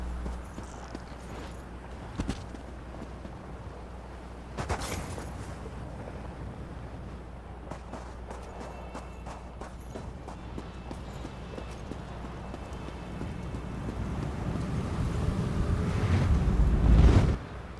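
Horse hooves clip-clop in an Elder Scrolls fantasy video game, a steady near rhythm over low wind and ambient drone, with a few sharp knocks and the rumble swelling toward the end.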